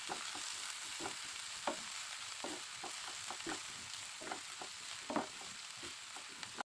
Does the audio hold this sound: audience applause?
no